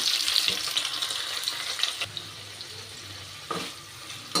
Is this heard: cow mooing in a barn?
no